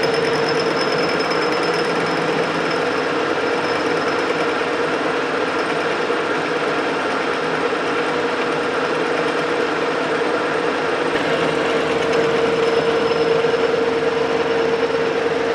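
A lathe takes a 40-thousandths cut on a steam stoker engine valve sleeve, producing a steady, loud machining drone with a sustained tonal whine that continues unbroken and alone, without talk.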